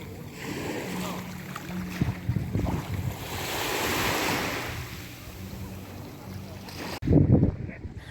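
Sea waves rolling onto a crowded Odesa beach on the Black Sea on a morning, a steady wash of surf with wind noise, ending in a brief burst of louder close sound.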